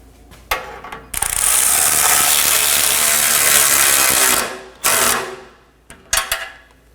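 A ratchet snugs down muffler nuts on a Nissan Maxima, with one long continuous clicking run up close, then a few shorter bursts and single clicks.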